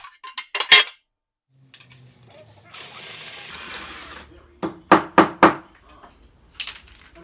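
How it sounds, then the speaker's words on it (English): A drill bores into an attenuator case, a steady whirring grind of a few seconds framed by sharp clicks and clatters of handling before and after. "I'm also going to need to drill this as well"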